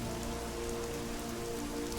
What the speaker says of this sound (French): Et en plus il pleut.